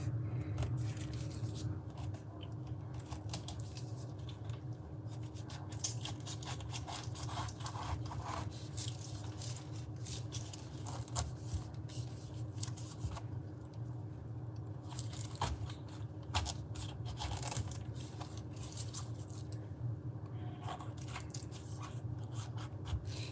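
A really sharp knife cutting through a fresh pineapple, with continuous crunchy, scratchy slicing and rubbing sounds over a low steady hum, close and fairly quiet.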